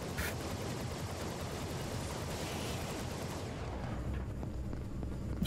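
Enemies firing in the shooter Vladik Brutal: a steady, unbroken wall of rapid gunfire and rumbling blasts keeps going throughout, fairly loud, with the bright crackle thinning slightly toward the end.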